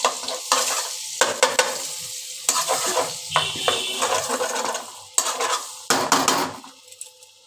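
Butter sizzling in a frying pan on top of oil in which ingredients were already fried, for a cauliflower and potato dish, with repeated clatters and scrapes of a utensil against the pan over a steady close sizzle.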